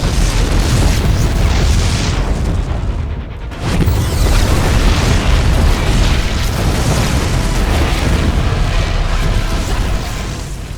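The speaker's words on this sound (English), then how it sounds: "The explosions have stopped." Explosions aboard a Protoss ship in a StarCraft 2: Heart of the Swarm cinematic: a loud, continuous booming rumble with deep low-end weight, dipping briefly before surging again and rolling on without speech.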